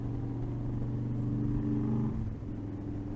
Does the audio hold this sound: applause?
no